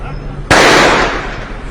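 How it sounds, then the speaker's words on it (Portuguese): One sharp, loud gunshot from a handgun cracks out abruptly, followed by a short echoing decay over a low background hum. "É possível ouvir mais um disparo"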